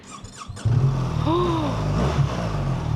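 A 2025 BMW R 1300 GSA motorcycle engine starting on a chilly day: a brief starter whine and squeak, then the engine catches into a steady, loud, low idle rumble close by, with no talk.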